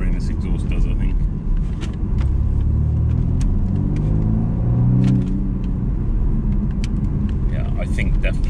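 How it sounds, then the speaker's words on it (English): A BMW M135i fitted with a rear-silencer-delete exhaust gives a steady, deep engine rumble that swells briefly mid-clip, with people talking over it throughout. "that's exactly what the rearless exhaust does"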